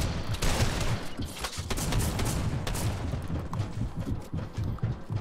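Shotgun gunfire in the Fortnite video game, a dense, loud barrage of overlapping blasts sustained throughout with no clear gaps, like a chaotic multi-player firefight.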